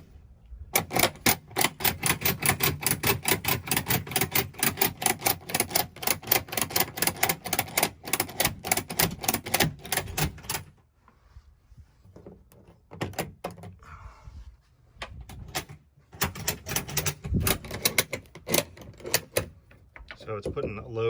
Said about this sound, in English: We can hook them in the middle, and then just ratchet this.